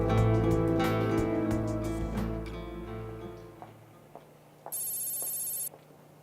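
A telephone rings with repeated bright electronic trills, first over a fading musical backdrop, then a single clear ring stands out alone near the end.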